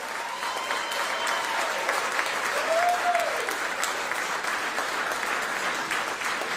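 Crowd at a speech by Fani Willis applauds district attorneys and investigators, steady, full clapping from many people that swells slightly midway, with faint voices beneath.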